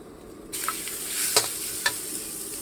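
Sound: beef stir-fried with curry paste in a pan

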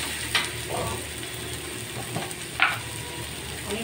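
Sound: stirring chopped spring onion into eggplant bharit in pan

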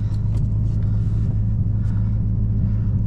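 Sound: 2001 Chevrolet Corvette Z06 engine rumbling

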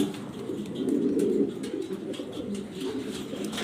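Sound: Jharna shirting pigeons cooing

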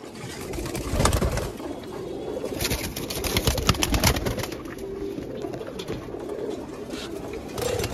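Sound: roller type pigeons cooing

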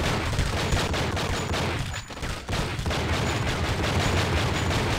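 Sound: gunfire in a video game (True Crime: Streets of LA)

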